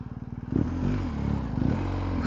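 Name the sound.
BMW R1250GS motorcycle with MIVV exhaust revving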